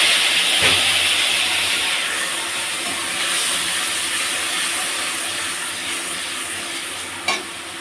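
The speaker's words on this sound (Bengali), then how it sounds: "অল্প একটু জল দেবো, নাহলে আমার মশলাটা পুড়ে যাবে।" A pan of frying spices hisses loudly as a little water goes in, a continuous bright sizzle that slowly eases, broken by a couple of sharp clatters from stirring near the start and end.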